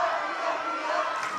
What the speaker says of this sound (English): Crowd coming to life again here at the Bob Carey Memorial Fieldhouse